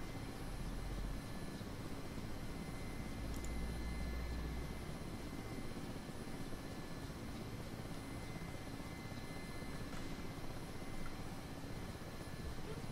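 A helicopter engine in a flight simulator game drones steadily with a low rumbling rotor throb and a high whine, a faint, unbroken hum with no talk.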